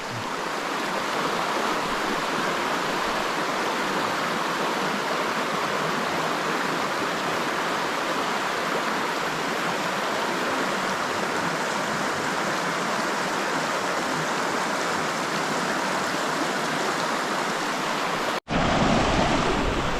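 River water pours steadily over a small dam formed by a submerged log, a loud, continuous rushing wash with no voices, briefly cut off near the end.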